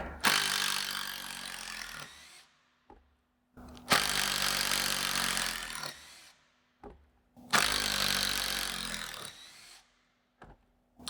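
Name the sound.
Makita entry-level impact driver removing screws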